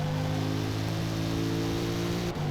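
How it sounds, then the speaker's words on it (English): Engine of an HSV GTS sedan in a racing video game, a steady loud droning tone holding pitch, then a sudden drop in pitch near the end as it downshifts, with no talk. "Grab a downshift here to help rotation."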